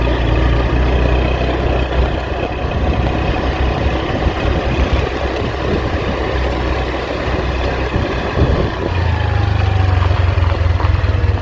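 A small motorbike carrying riders through a mining-area transmigrant village, its engine droning steadily and loudly throughout with a rumbling low hum and wind noise, the pitch dipping and rising slightly near the end.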